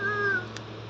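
A cat gives a single short meow, a clear rising-then-falling tone lasting under half a second, close by in an otherwise quiet room.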